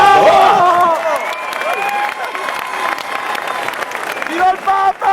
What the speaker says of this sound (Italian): forza un applauso!